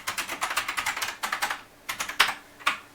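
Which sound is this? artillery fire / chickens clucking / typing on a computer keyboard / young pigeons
typing on a computer keyboard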